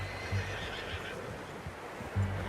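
A horse in Red Dead Redemption 2 gives two short whinnies, one early and one near the end, over a steady game-world background with faint hoof clatter.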